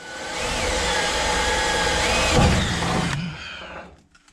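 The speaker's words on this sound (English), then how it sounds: "So now I'll start laying the boards in, drilling my holes for the strips" A steady, loud mechanical whir of a power drill boring holes in wooden bed boards for several seconds, with a brief heavier grinding burst midway, then winding down to quiet.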